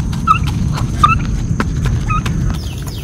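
A rooster and hens cluck in short, repeated chirpy calls at an outdoor feeding spot as they come to eat, set against a steady low background rumble.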